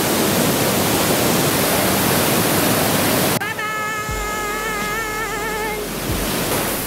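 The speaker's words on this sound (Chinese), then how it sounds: "阿兰骑完大象，我们准备离开了，所以在这边跟白雪瀑布说拜拜" A white-water waterfall in Laos roars as broad, steady rushing noise, loud and close, then abruptly drops to softer background rush, with a person speaking over it.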